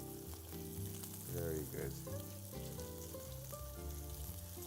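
Sea bass fillet frying in a hot pan, a steady crackling sizzle heard up close while people talk and laugh over it.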